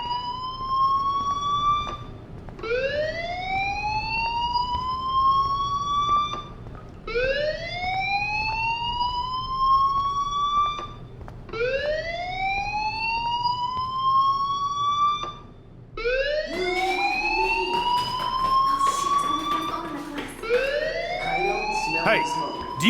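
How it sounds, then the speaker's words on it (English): Fire alarm ringing in the video game Life is Strange, a loud rising whoop that repeats about every four seconds, becoming busier and overlapping near the end. "Hey, do you hear that fire alarm?"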